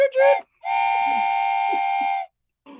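Two blasts of a train whistle: a short rising toot, then a long steady chord-like blast held for over a second, loud and clean against near silence, with a faint bit of speech between them.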